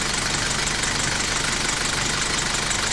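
A car engine runs at steady speed during a loaded alternator test, a constant close mechanical drone with a faint rhythmic knock and no pauses or talking.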